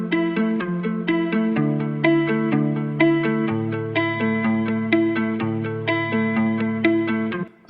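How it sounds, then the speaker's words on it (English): Dark guitar melody for a deep house track, steady plucked notes over sustained lower tones with a chorus-like, echoing effect, loud and continuous for several bars before cutting off at the end. "I started with this guitar melody"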